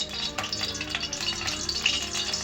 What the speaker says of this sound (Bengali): দুটো শুকনো লঙ্কা ভালো করে ফোড়ন দিয়ে দিলাম